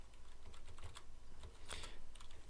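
Rapid clicking on a computer keyboard, quiet close keystrokes in irregular bursts with brief pauses, no voice over it.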